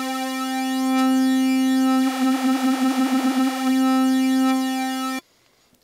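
A sustained buzzy synthesizer tone in Massive runs through a flanger while its rate knob is varied, the sweeping comb-filter whoosh speeding up into rapid fluttering in the middle before easing off, then cutting to silence.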